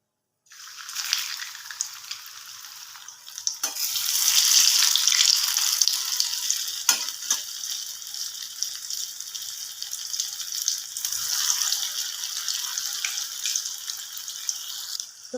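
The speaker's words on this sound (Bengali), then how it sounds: "এবার আমি বাকি দুটোও ভেজে নেব।" Cheese bread fingers frying in hot oil, a bright hissing sizzle that starts abruptly and holds steady and close, with a few faint bubbling pops and no talk.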